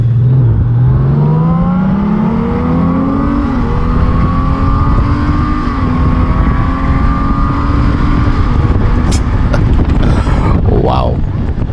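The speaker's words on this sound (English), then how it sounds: "Just listen to this bike, guys." A Gen 6 Honda Goldwing motorcycle engine with DCT roars close up, its pitch climbing as it revs and accelerates, then holding a loud, steady drone with some rattling near the end.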